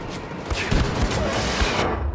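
Gunfire from Wolfenstein 2: The New Colossus roars in a dense, loud, continuous volley of overlapping shots and booms, filling the short stretch without a break.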